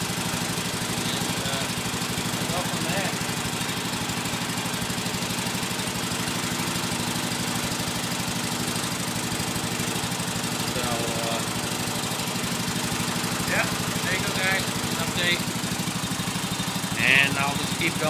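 A Cub Cadet 1450 lawn tractor engine runs at a steady idle, a constant droning hum that stays close and even for the whole stretch, with faint voices or background noise now and then.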